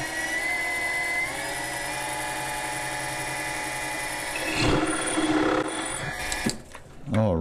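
Machine cutter boring a 7/8 to 15/16 inch hole at about 600 RPM gives a steady, loud grinding whine that roughens and surges near the end as the cutter bites in.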